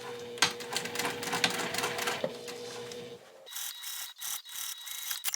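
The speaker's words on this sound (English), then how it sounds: "I'm going to top stitch across here." Sewing machine top stitching across a vinyl bag with lining, a steady mechanical run of needle clatter for about three seconds, then stopping into quieter handling noises.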